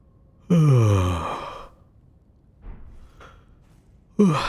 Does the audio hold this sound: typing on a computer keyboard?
no